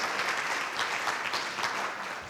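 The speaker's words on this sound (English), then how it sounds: "So give them another huge round of applause," A dinner audience breaks into a big round of applause, a full, continuous wash of many hands clapping at steady volume throughout.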